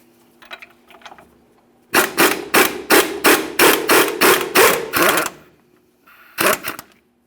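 A hammer strikes steel repeatedly to break the upper ball joint free of the steering knuckle on a 1999-2006 Chevrolet Silverado 1500: a few faint taps, then about ten loud, rhythmic metallic blows, a pause, and two more hits.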